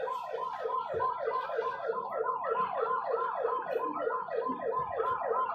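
Several fire truck sirens wail in rapid repeating yelps, steady and moderately distant, as fire crews respond to a fire near a Petron station, with no talking over them.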